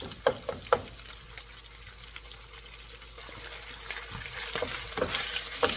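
Raw, cold beef steak stir-fried in a hot pan, a steady sizzle and hiss with a few sharp clacks of stirring early on, the frying growing slightly louder toward the end, no voices.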